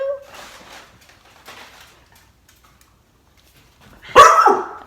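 One loud, deep bark from a big dog rings out near the end after a few seconds of quiet with faint murmuring.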